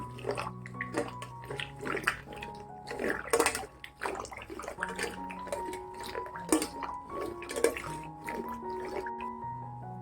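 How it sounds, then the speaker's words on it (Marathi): A wooden churner works through thick cooked dal, mashing it in the pot with wet squelching and knocks against the pot, in irregular bursts over a few ringing tones. "पहिल्यांदा मी हे वरण घोटून घेते, त्यात रवी फिरून मॅश करून घेते मी"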